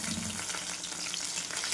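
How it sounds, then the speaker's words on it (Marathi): Onion frying in a pan for a traditional drumstick and raw mango dal, a steady soft sizzle and hiss, faint and continuous, with no voices. "कांदा पण छान आपण लालसर होईपर्यंत भाजून घ्यायचा"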